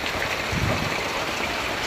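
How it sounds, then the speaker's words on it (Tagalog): Steady heavy rain pours down on a flooded Manila street, waist-deep water with submerged tricycles in Caloocan; a dense, continuous hiss holds at constant loudness throughout, with no voices. "Talagang hanggang ngayon ay tuloy-tuloy pa rin ang pag-ulan"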